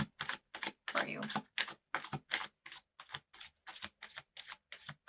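Tarot cards are shuffled in close, rhythmic riffles, a quiet series of about a dozen short papery bursts with no talking.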